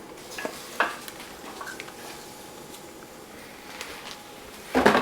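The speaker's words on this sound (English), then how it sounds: "I'll dump them peppers right in there." Bell peppers hit hot sausage fat in a frying pan, giving a quiet steady sizzle broken by a few clinks and scrapes, then a louder rush of sizzling near the end.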